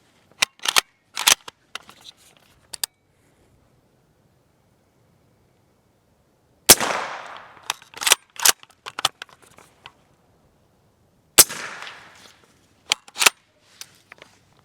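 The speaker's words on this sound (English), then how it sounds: "to me the first round sounded way louder. The second round was quieter, but it was still kind of loud." Suppressed gunshots from a Bear Creek Arsenal 8.5-inch 300 Blackout bolt-action upper, heard as a handful of sharp, isolated cracks spread across long pauses, with two louder reports standing out among quieter clicks and clacks.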